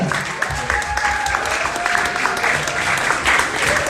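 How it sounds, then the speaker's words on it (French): Audience at a wedding ceremony claps steadily and fairly loudly for several seconds, the dense applause running on alone with no speech over it. "Sous vos applaudissements, s'il vous plaît."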